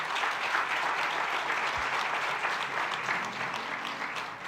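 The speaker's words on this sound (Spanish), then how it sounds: "Todos aplaudieron menos los de la pastoral familiar." A church congregation applauding, a broad wash of many hands clapping at a steady, moderate level, slightly easing toward the end.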